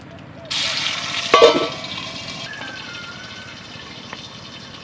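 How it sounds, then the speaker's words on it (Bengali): Big bhetki fish bones hit hot oil and burst into a loud sizzling splatter that peaks briefly, then settles into a steady, softer frying hiss with small pops. "এই তেলটা দেওয়ার সময় খুব তেল ছিটকাবে তাই জন্য একটা ঢাকা দিয়ে দেবে"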